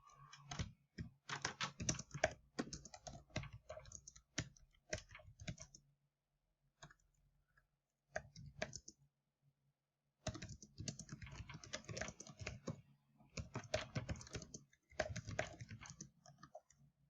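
Rapid typing on a computer keyboard during an online class, long dense runs of clicking keystrokes broken by a few brief pauses and one longer silence, close and clear with no one speaking.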